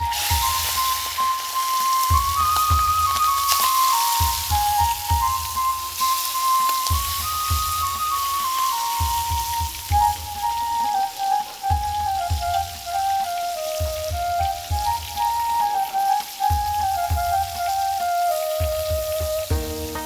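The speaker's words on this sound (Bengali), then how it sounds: "গরম তেলে এখন ভাজা ভাজি" Hilsa fish fry in hot oil in a pan over a clay-hearth kitchen, with a steady loud sizzle and crackle throughout, while a whistling melody plays over the top.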